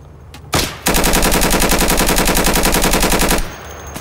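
A long, rapid burst of automatic gunfire in the video game Insurgency, loud and close, firing continuously for about three seconds before cutting off.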